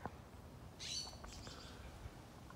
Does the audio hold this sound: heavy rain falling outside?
no